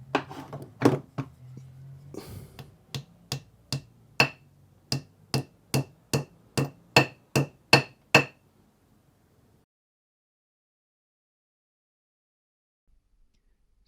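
A dowel is hammered into a drilled hole in a wall: about fifteen sharp, evenly spaced hammer blows, close and loud, with brief handling noise before them and silence after.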